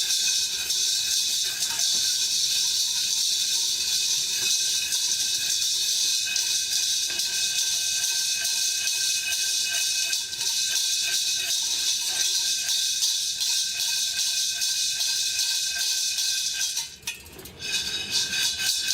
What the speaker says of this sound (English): I'm really getting some air into the beans as well as moving them around